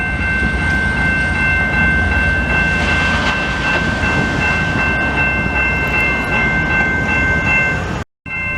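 Montreal commuter train passing close by, a loud steady rumble of rolling railcars with a sustained high tonal whine running throughout, cut off abruptly near the end.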